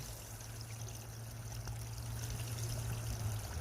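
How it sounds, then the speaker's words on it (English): Water pours steadily from a pump during the final washout of gold paydirt, a continuous close trickling stream under a low constant motor hum, with no talk. "I don't know if you can quite see the water coming out from the pump there."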